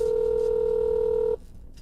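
A single steady dial tone from a SpongeBob-style shell phone holds loud and unbroken for over a second, then cuts off abruptly, leaving faint room noise.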